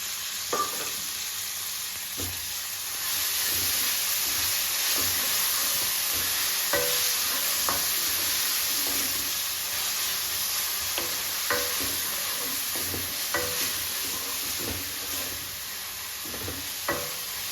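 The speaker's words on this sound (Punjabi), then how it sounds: "ਪਿਆਜ਼ ਨੂੰ ਵੀ ਲਾਈਟ ਬ੍ਰਾਊਨ ਹੋਣ ਤੱਕ ਭੁੰਨਾਂਗੇ ਆਪਾਂ" Onions frying in a pan until light brown, a soft constant sizzle with regular clicks and scrapes from stirring across the whole stretch.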